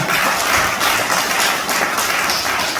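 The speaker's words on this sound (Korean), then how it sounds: "다시 한번 큰 박수 부탁드리겠습니다." Dense, steady audience applause fills a hotel function room during a representatives' appointment ceremony in Gwangju, many hands clapping at once with no break for nearly three seconds.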